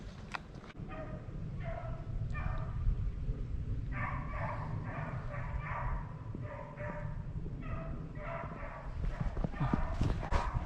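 Hunting dogs on a rabbit chase in South West Virginia, barking and yipping repeatedly at a distance in irregular bursts over a steady outdoor background.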